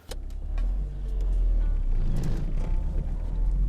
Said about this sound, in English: And now I think I'm gonna go for a little drive.